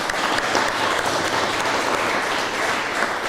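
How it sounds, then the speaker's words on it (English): Audience at a startup day event in Mexico City applauding, a sustained, loud crowd clapping that holds evenly from start to finish with no voices over it. "A round of applause."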